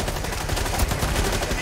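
Rapid, dense gunfire in the video game Rainbow Six Extraction, continuous automatic bursts filling the whole moment, loud and sustained with no talk clearly heard.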